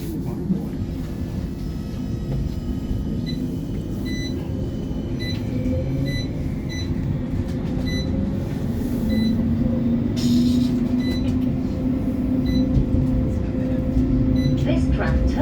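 West Midlands Metro tram 31 pulling away from a stop, a low motor whine rising and steadying as it gathers speed, heard from inside with a steady rumble and occasional clicks.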